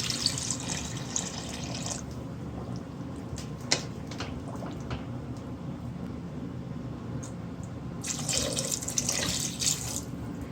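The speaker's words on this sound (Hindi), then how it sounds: "पानी इतना लगाना है ये जो पाए हमारे हैं वो इसमें डिप हो जाए।" Water runs and splashes into a cooking pot of fried goat trotters for paya, a steady close pour with bursts of louder gushing at the start and end.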